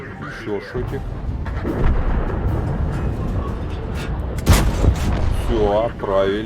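A heavy tank's cannon fires once in the World of Tanks video game, a loud booming blast partway through. Game rumble and other effects surround it, and someone talks over them.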